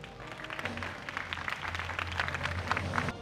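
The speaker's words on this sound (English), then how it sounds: "Let us give them a round of applause." Faint, distant applause from the audience at a senior high school commencement ceremony, a soft continuous patter of clapping over a low hum.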